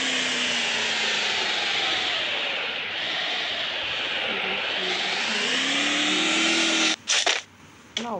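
A vehicle drives in the Free Fire video game, producing a loud, continuous engine drone with rising and falling whining tones. The drone cuts off briefly near the end, and a few sharp effects sound.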